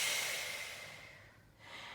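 A Pilates instructor draws one audible breath in through the nose during a cardio flow workout, a soft airy inhale that fades out over about two seconds.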